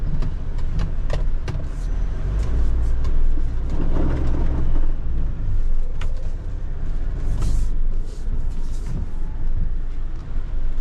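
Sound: Mitsubishi Triton Single Cab pickup truck driving

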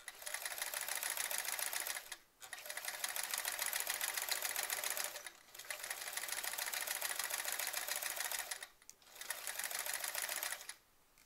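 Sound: sewing machine stitching a quilt

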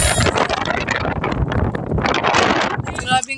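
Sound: strong wind at the seaside

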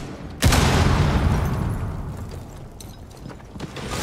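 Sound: frag grenade explosion in Rainbow Six Siege video game

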